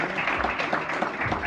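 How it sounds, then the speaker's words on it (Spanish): Brief audience applause at an economic conference in Mexico, a dense patter of clapping blended with some murmuring voices. "Un aplauso."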